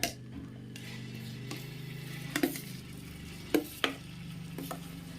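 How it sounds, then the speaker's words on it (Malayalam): Ripe jackfruit pulp cooks in hot ghee in an uruli. A soft, low sizzle runs under a background hum, broken by a few sharp clinks of a utensil against the vessel. "നെയ്യ് ഒഴിച്ചു കൊടുത്ത ശേഷം നമ്മൾ എടുത്തു വെച്ചേക്കുന്ന ചക്കപ്പഴം ഇപ്പം മുഴുവനായിട്ട് ചേർത്ത് കൊടുക്കാം"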